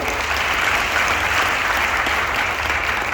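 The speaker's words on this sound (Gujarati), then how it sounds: "જોરદાર તાળી થઈ આપણા માટે" A crowd at a seminar celebration applauds loudly, many hands clapping in a steady, dense roar that lasts the whole time.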